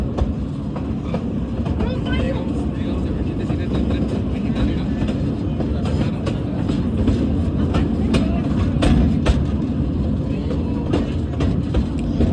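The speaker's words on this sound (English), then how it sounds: "that's a real train right there" A real train rolls past in Nevada City, Montana, a steady loud rumble with rhythmic rail clatter that holds near and constant throughout, with voices faintly underneath.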